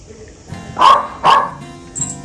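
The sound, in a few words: dog barking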